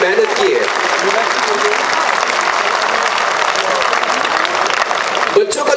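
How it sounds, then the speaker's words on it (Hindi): Audience at a school world record event applauding for the children, sustained loud clapping from a large crowd that stays steady and then briefly dips near the end. "एक बार दिल खोल के तालियां बजा दे बच्चों के लिए"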